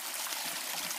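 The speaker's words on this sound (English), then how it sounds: "all year long, water trickles right under here" Water trickling out from under a bank beside a trail, a soft steady babble of a small stream, close and alone.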